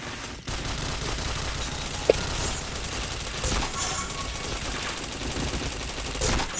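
Sustained automatic gunfire in a shooter video game, a steady dense rattle of shots with a few louder bursts, near and continuous, with a faint voice occasionally under it.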